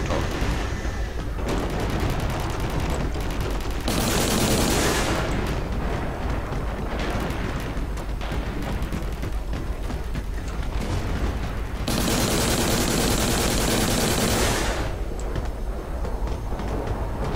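Heavy gunfire and explosions from a Rhino's top-mounted machine gun in Warhammer 40,000: Eternal Crusade, with bursts and loud booms swelling in waves across a noisy battlefield.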